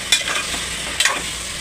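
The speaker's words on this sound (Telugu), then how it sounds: "పచ్చిమిర్చి వేసి కలుపుకోవాలి." Green chillies are stirred into frying amla pickle, with two sharp utensil scrapes over a steady close sizzle.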